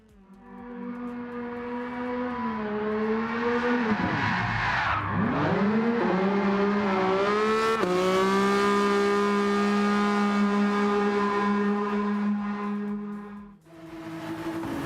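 Rally cars drifting and racing on a heavily wet surface: a sustained, loud engine whine rising and falling in pitch as the throttle is worked, dipping sharply once mid-run, then holding a high steady note before cutting off.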